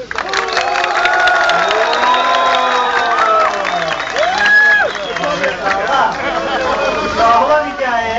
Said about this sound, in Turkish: Sağlam hikayeye sağlam alkış.